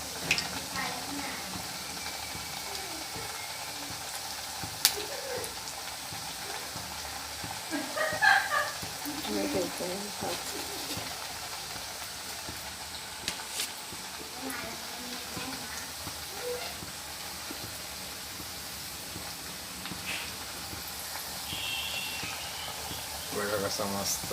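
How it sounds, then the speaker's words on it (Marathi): Steady hiss of oil frying in an old kadhai, a continuous sizzle running close throughout while a voice talks intermittently over it. "जुनी कढई आहे हे बघा अशा मस्त तळून घ्यायचे"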